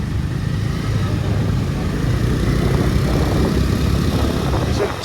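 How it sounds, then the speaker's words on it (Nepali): A motorcycle rolls slowly in second gear under steady throttle control while riding through city traffic, its low engine drone continuous and close, with no talk over it. "अब म गियर चेन्ज गर्दै 2 गियरमा गइसकेको छ बाइक।"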